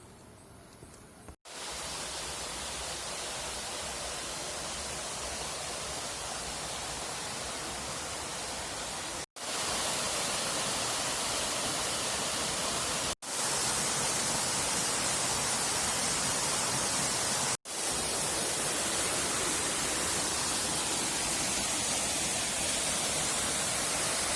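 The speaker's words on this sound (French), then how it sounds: "Il y a une cascade sur le chemin," Waterfall beside a hiking trail crossing Tioman Island, Malaysia, a steady broadband roar of falling water that stays loud and continuous throughout, with a few brief cuts between takes and no voices.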